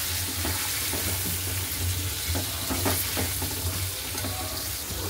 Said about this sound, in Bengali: নুন আর হলুদ দিয়ে দিলাম, দিয়ে ভাজা ভাজা করে নিই, ভালো করে ভেজে নিই আলুগুলো।